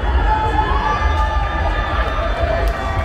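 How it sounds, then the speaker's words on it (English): Spectators at a paint-throwing event, the crowd on the bank and in the pit, cheer and shout continuously, a loud, dense roar of many voices with children's shouts mixed in throughout. "I want you to cheer for your paint of colour of choice. Cheer for your team."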